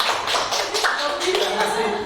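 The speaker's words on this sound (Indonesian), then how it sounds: "tepuk tangan untuk ibu ini" An audience claps for a woman volunteer at a hypnotism teaching session, a short burst of scattered hand clapping mixed with a voice speaking over it.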